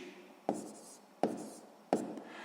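A pen on paper gives three distinct scratching strokes, each starting with a sharp onset and then fading, set about three-quarters of a second apart and close by.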